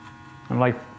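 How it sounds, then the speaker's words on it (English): A hair trimmer fitted with a deep tooth blade gives one short electric buzz, switching on abruptly and cutting off after about a quarter second against quiet room tone. "I personally like to use a trimmer with a deep tooth blade on there"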